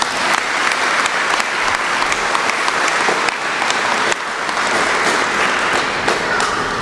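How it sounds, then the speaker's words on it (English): A graduation audience at the Odyssey Jr/Sr High ceremony gives a sustained round of applause, a loud, dense wash of many hands clapping steadily and evenly throughout. "give yourself a big round of applause"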